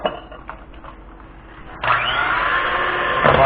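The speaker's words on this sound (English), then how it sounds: "we're going to go ahead and blend this with a mixer" An electric hand mixer blending pecan pie filling of eggs, sugar and salt, switching on partway through with a steady whirring drone after quieter kitchen handling sounds.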